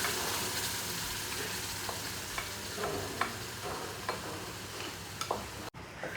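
Chutney heating in a pan for stuffed squid gives a steady, low sizzle and hiss with occasional soft clicks and taps, moderately faint and continuous, with no voices.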